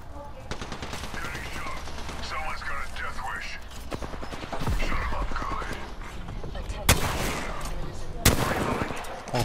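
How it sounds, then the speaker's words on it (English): Bursts of gunfire from the Apex Legends shooter, with rapid automatic volleys running through most of the stretch and two sharp, louder single shots near the end, while voices talk over the action. "They're shooting at me?"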